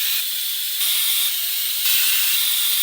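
A pressure cooker holding pork vents steam on a gas stove, a loud, steady, airy hiss that runs throughout with only slight swells in strength and no voices.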